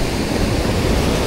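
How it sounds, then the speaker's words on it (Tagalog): Strong sea waves wash and churn around a fishing boat, a dense, loud and steady rushing roar with gusty noise and no voices. "Malakas yan talaga yung alon."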